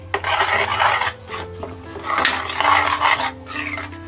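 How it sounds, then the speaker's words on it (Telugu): A spoon scrapes and stirs coriander powder and garam masala through potato curry in a pot, with steady rasping strokes and brief pauses, close and fairly loud with no talk. "ఒకసారి కలుపుకోవాలి"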